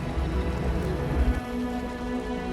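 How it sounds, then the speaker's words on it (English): Heavy rain pours down in the video game Wuthering Waves, a dense, steady wash of falling water with a low rumbling undertone and a faint sustained hum, continuous and fairly loud. "The rain's getting heavier."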